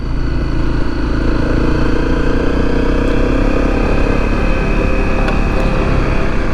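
A motorcycle runs steadily and loud on a long-distance ride along the Transamerica Trail, its engine drone continuous with wind rush, close and unbroken, no voices.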